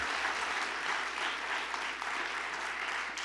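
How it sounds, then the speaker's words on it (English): Audience in a church, God's Battalion of Prayer Church, applauding with thick, continuous clapping that fills the short span evenly, close and loud with no talk over it. "Let's give them a round of applause for their leadership."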